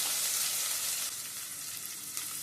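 Onions hissing in hot oil for prawn thokku, a dense, even sizzle up close that fills the whole moment and eases slightly partway through.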